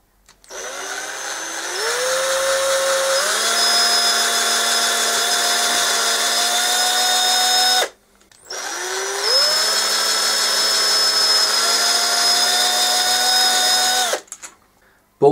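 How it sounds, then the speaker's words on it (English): Two bursts of a power drill drilling holes in a mousetrap car chassis, each spinning up with a rising whine, holding a steady buzz for several seconds, then stopping abruptly. "Drill the holes."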